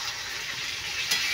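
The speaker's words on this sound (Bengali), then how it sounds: "এবার আমি জল দিয়ে দিলাম।" Steady, close hiss of a pan of pointed gourd and shrimp frying, with a brief louder burst near the end as water hits the hot pan; no voices.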